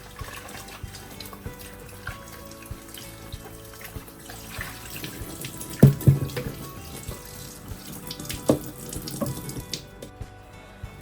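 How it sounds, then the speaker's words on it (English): Lemons and limes are rinsed under a running kitchen tap, with steady water splashing into the sink and occasional louder splashes and knocks as the fruit is handled. "I'm just gonna give them a nice rinse."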